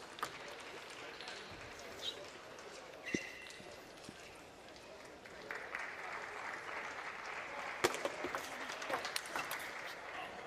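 Applause rises and falls from a crowd at a professional table tennis match, a steady wash of clapping running the whole stretch with a few sharper cheers and the hard knock of a ball or paddle now and then.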